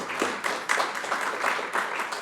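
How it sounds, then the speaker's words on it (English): Audience applause at a UN Human Rights Council side event: a dense, steady wash of many hands clapping in a room, moderately loud and continuous throughout. "I think that deserves a round of applause"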